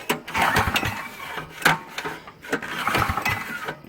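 Manco Warrior buggy engine with a stuck valve sputtering as it starts, several uneven bursts of cranking and firing in quick succession, close and loud.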